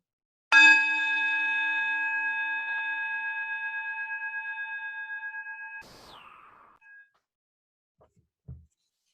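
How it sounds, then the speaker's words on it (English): A morning bell struck once to open a Sunday worship service, its clear ringing tone sustaining and slowly fading with a faint pulsing shimmer, followed by small knocks, with no talk. "Now let us enter into the sacred space of worship with the sounding of the morning bell."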